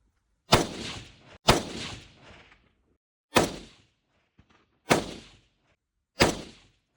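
Five suppressed shots from a 16-inch-barrel sport rifle fitted with a Mara silencer, each a sharp, loud crack with a short decaying tail, fired at irregular intervals with near silence between them.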